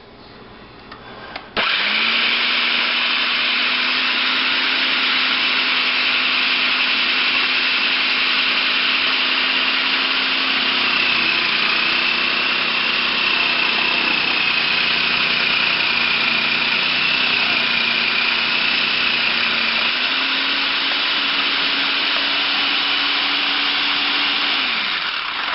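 Black & Decker food processor chopping cabbage, a steady loud motor whine that starts abruptly and runs continuously, its pitch dipping slightly as the load changes.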